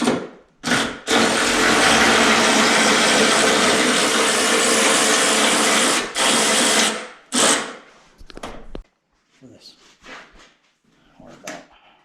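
A power tool whirs loudly and continuously for several seconds while removing bolts from a crash-damaged Camaro fender, stopping briefly, then running again, followed by short bursts and quieter clinks of handling.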